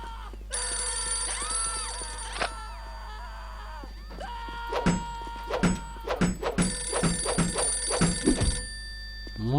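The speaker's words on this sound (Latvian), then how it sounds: "Mūžīgais zvanošais telefons." A telephone rings in the game Postal 2 with loud, close electronic bell trills in long bursts, later broken up by a series of sharp thuds and gunshot-like hits.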